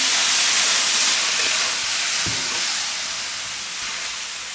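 Water with doubanjiang (broad bean paste) boiling hard over high heat gives a steady, loud hiss with a dense bubbling rush that eases slightly over a few seconds. No one speaks.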